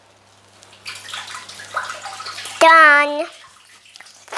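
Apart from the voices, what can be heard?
water running while rinsing a half teaspoon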